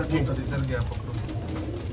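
Sialkoti pigeons coo in low, soft, rounded calls that repeat and overlap steadily, close by, with a voice talking over them.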